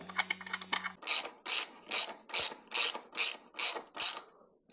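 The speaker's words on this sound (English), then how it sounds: "Gotta get that close up. Of these ratcheting tools." Ratcheting hand tools click out a run of about eight sharp, evenly spaced bursts at close range while a new seat is fitted to a Triumph bobber motorcycle, following a brief patter of lighter ticks and a faint hum, with no talking.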